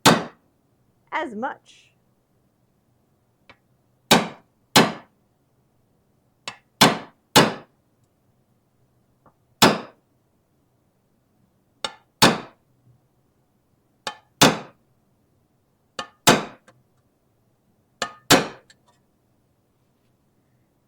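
A very light hammer taps on metal trim for a Mandalorian shoulder armor piece, delivering sharp, isolated strikes every second or two with quiet gaps between them, plus a brief spoken remark near the start.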